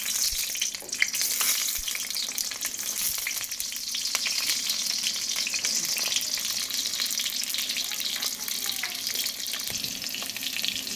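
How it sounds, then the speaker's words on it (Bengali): Pointed gourd (potol) fries in hot oil with a strong, continuous sizzle and spattering crackles. It stays close and loud throughout, with occasional stirring sounds and no talk. "তেলটা গরম হয়ে গেছে এবার আমি পটলটা ভাজার জন্য পটল দিয়ে দেবো"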